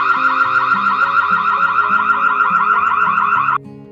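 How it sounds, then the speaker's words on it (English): A security camera's built-in alarm siren sounding to scare off trespassers: a loud, steady electronic wail with a rapidly cycling, warbling pitch, running continuously for several seconds before cutting off abruptly. "An alarm can be enabled to scare away any trespassers."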